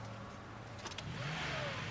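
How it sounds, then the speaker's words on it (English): A car engine starts up and then settles into a steady idle while still cold, heard close and fairly quiet with a brief clatter at the start, and no one speaks. "start the engine, please"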